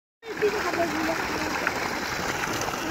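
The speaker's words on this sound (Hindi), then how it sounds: "ये पानी आ रहा है, ये खेतों में जाने के लिए पानी है" Irrigation water rushes and splashes along a village channel feeding the fields, a close, continuous flow that starts abruptly, with a voice in the background.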